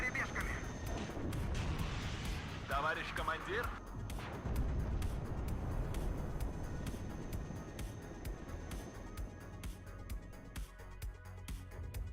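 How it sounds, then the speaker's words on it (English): Artillery fire in the real-time strategy game WARNO, heard as repeated distant booms and rumbling impacts beneath someone talking throughout, with other battlefield noise in the mix. "The artillery spam was just horrendous by the end."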